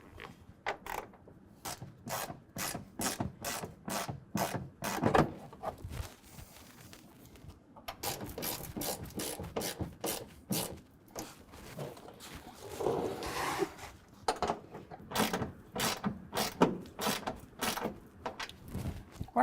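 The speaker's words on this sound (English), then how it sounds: "we can go ahead and take our 10mm socket and tighten everything down" A 10mm socket ratchet tightens bolts on wheel well guards on a 2023 Ford F-250, producing bursts of rapid, close clicking that pause briefly between strokes and repeat across several bolts, with no speech.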